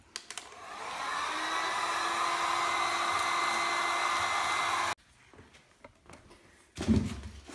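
A heat gun blasts hot air onto raised tyre sidewall lettering, a steady loud whooshing hum for about five seconds that then cuts off, followed by quiet handling and a brief clunk.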